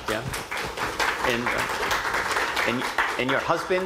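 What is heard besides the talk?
audience applause for a guest speaker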